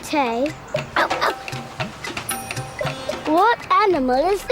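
A voice imitates a dog barking with short, repeated yelps amid speech.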